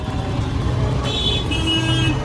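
A tuk-tuk drives through busy traffic in Jaipur, India, with a steady engine rumble, road noise and a couple of short horn toots from nearby vehicles.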